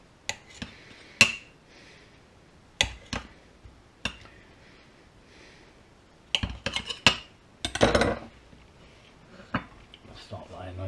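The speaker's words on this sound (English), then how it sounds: "So I've got some buffalo mozzarella. We're just going to slice a few pieces off of there." A knife slicing buffalo mozzarella on a kitchen board for a puff pastry pizza, heard as scattered sharp clicks and taps of the blade, irregular and close, with a person talking in between.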